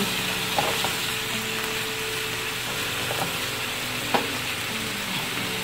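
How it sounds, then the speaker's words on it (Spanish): Ground beef sizzles with onion and garlic in a pan for tacos, a constant close frying hiss broken by occasional scrapes and taps as the mixture is stirred. "asegurando que se revuelve la carne con la cebolla y el ajo para que no se queme el ajo"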